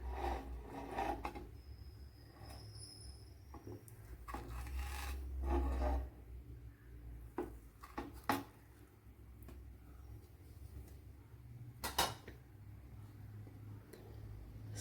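A knife saws through a soft steamed rava banana snack with quiet rasping and rubbing strokes, faint and close, in a few separate passes with pauses between them.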